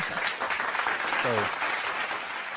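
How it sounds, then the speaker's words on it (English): Hand clapping from a small group during a late-night live stream, fairly soft and continuous under voices, with a brief whistle-like tone in the middle. "Hand clap for them too."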